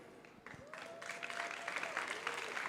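Audience at a startup showcase applauds the top five university startups, clapping building from quiet to a steady, moderately distant patter, with a tonal whoop and crowd cheers mixed in.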